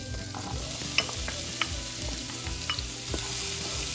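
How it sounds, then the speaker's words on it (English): Chopped onions frying in melting butter in a pan give a continuous sizzle with a low hum beneath, while a few light taps and scrapes of stirring stand out above it. "before it melts all the way, we're going to add in our chopped onions"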